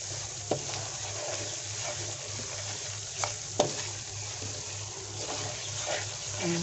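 Flour is stirred into melted sugar in a pan for homemade gur pateesa, giving a continuous bubbling, sizzling hiss with occasional scraping knocks and a low steady hum underneath, with no talking.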